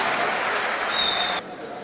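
An audience bursts into loud, dense applause as a speaker, Dr. Sunil Tripathi Nirala, is invited to the microphone; the clapping holds steady, then drops off abruptly into quieter room noise.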